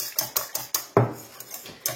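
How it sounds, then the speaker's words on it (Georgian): Eggs beaten with sugar and salt in a bowl, a quick run of sharp clinking strokes of utensil against the dish, about eight close taps in steady rhythm with no talk. "აი ესე გავთქიფოთ"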